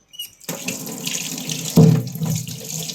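Tap water runs steadily into a sink while five small potatoes are rinsed, with a brief louder splash near the middle as the flow hits them.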